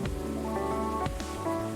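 Steady rain falls in the video game Coffee Talk, a soft, even patter that runs throughout beneath a mellow musical background, with no speech.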